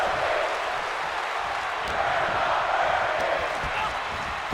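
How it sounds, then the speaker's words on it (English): A roaring arena crowd in the WWE 2K25 wrestling game during a Cody versus Cena WrestleMania Night Two match, a steady loud wash of cheering and applause that holds throughout without a break. "The crowd is going wild."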